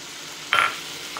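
Vegetables including bottle gourd and its leaves are stirred in a hot pan, one short scraping burst over a soft steady sizzle, close and fairly quiet.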